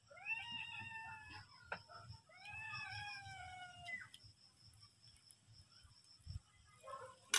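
A cat meows in a series of drawn-out, wavering calls, mostly in the first four seconds, sounding fairly close over a low background rumble. A few fainter cries follow near the end, with no talking.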